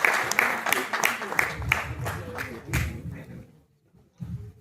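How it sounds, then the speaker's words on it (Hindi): Applause from the audience at a mushaira and kavi sammelan poetry gathering at IIT Delhi, welcoming a poet with a run of distinct claps that thin out and stop before a brief final burst. "जोरदार तालियों में इस्तकबाल कर लीजिए"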